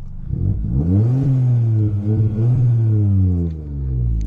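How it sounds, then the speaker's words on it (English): A 2008 Volkswagen Polo fitted with modified twin Polo GTI exhausts revs loudly and close up, its deep engine note climbing and falling through a long sustained rev before dropping away near the end. "As you can hear, this is a pretty loud car."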